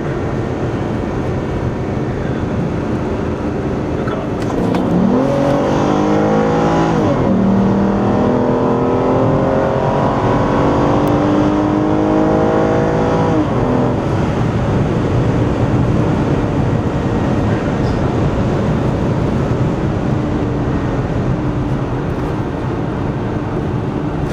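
An Aston Martin Rapide engine pulls hard under full acceleration, a loud rising roar that climbs through gears with shifts around the middle, then settles into a steady high-speed drone.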